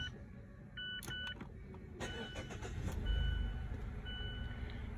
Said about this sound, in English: First thing you want to do is just start the car.